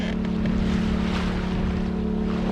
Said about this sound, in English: You can hear the generator going.